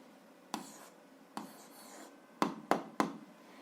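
Pen strokes on paper while an answer to a seventh-grade algebra exercise is written down. Five sharp, close scratchy taps and strokes are spaced irregularly, the last three in quick succession.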